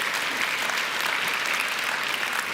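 Congregation clapping at a Sunday evening church service, a steady dense wash of many hands at moderate volume, sustained evenly for a couple of seconds with no voices over it.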